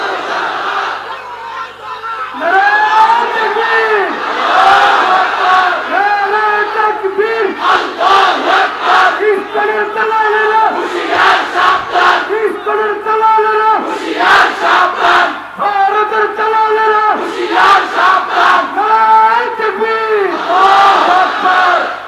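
A large crowd at a Bangla religious waz gathering chants slogans in loud unison in answer to a preacher's call, the voices rising in repeated surges with short pauses between chants.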